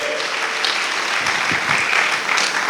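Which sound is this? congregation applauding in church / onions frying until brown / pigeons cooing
congregation applauding in church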